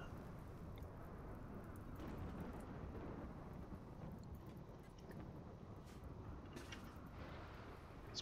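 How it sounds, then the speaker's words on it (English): Steady rain and rolling storm rumble in the game RimWorld, with lightning strikes hitting a colony base. The noise is dense and constant throughout, and a few faint high crackles come through near the end. "Why does the lightning keep hitting my base?"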